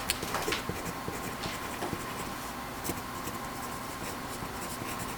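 A pencil crosshatches across drawing paper in a continuous dry scratching, with quick repeated strokes at a steady rhythm, close and fairly quiet.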